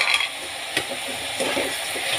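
Coconut paste and roughly chopped sliced tomatoes frying in a pan while being stirred, a steady close sizzle with a few soft scraping strokes, no talking.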